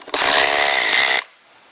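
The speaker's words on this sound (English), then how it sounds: "We're going to use a 9/16 inch socket head and then just drive them straight into our pilot holes" A power tool with a 9/16 inch socket drives an anchor into a pre-drilled pilot hole in concrete, one loud, harsh whirring burst about a second long that stops abruptly, close by with no voices.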